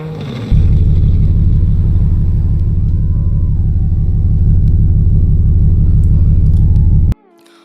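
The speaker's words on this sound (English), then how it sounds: "I love the way the startup is on this car" A loud video-game car engine catches and settles into a deep, steady rumbling idle that holds for several seconds before cutting off abruptly.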